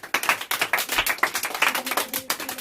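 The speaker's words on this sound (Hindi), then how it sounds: "पहले क्वेश्चन का ताली बजा दो।" Classroom children clap together in a fast, uneven burst of many claps, close and loud, keeping up a rough rhythm for a few seconds.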